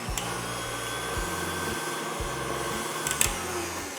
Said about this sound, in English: I'm going to start whisking it until it's all foamy.